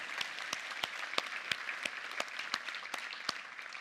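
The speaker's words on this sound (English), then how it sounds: "let's give them a round of applause." An audience at a tech conference keynote claps for vendor award winners, a steady crowd of many hands with distinct individual claps standing out, continuous and moderately loud, with no talk.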